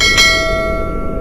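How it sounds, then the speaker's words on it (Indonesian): A single bright bell chime for a notification rings out loud at the start, then fades into a lingering tonal decay over a low background hum. "lonceng notifikasinya dinyalakan"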